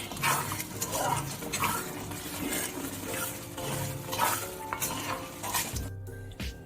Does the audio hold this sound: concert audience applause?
no